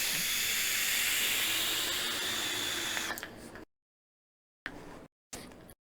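Airflow noise from a Geek Vape Griffin 25 tank with top airflow on one click while vaping: a loud, steady, close breathy hiss for about three seconds, then silence and two brief hissing puffs.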